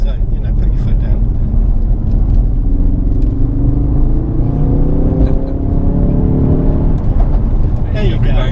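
Ford Focus RS MK2 accelerating hard in third gear onto an open road, heard from inside as a loud engine rumble rising steadily in pitch over several seconds, with voices talking over it.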